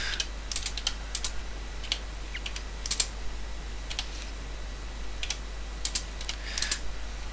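Someone types a city name on an English-layout computer keyboard, producing short clusters of crisp key clicks separated by pauses over a low steady hum.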